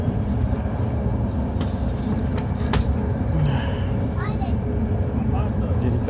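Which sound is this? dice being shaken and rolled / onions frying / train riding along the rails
train riding along the rails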